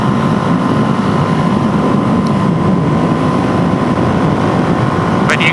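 A Suzuki DRZ 470 motorcycle with an FCR 39 carburetor runs with a steady, loud engine drone held at constant throttle, with wind buffeting the microphone throughout.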